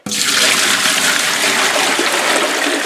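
Maple sap poured into an induction pot, a loud close steady rush of liquid that starts abruptly and keeps splashing without pause, with no talking.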